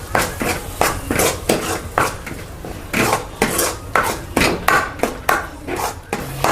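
A spoon stirring masala in a pan, loud rhythmic metallic scraping and clanking, about twelve bursts in quick succession with brief pauses between.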